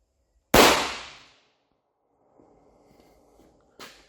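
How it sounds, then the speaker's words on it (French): A Beretta 92 Kimar alarm pistol loaded with Maxtech blank cartridges fires one sharp, loud shot that decays over about a second, followed by faint rustling and a quieter click near the end. "on va prendre le Beretta 92, mais cette fois-ci le Kimar, avec les cartouches Maxtech."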